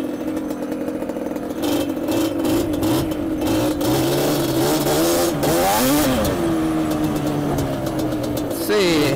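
A Yamaha Banshee ATV engine revs and bogs while spinning donuts, its two-stroke note rising and falling in sweeping pitch changes, close and loud, with a voice talking over it.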